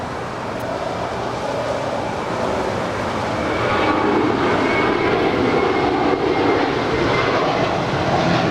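A large airliner roars down the runway at Los Angeles International Airport on its takeoff run, a broad, loud jet-engine rumble that swells and holds steady without any talk over it.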